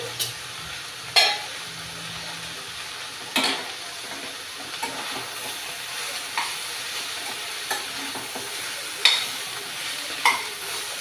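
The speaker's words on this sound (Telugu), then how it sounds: "చిన్న స్పూన్ తోటి దీన్ని శుభ్రంగా కలుపుకోవాలి" A small spoon stirs salted beans and tomato curry in a pan, scraping in sharp separate strokes every second or two over a soft steady sizzle, close and alone.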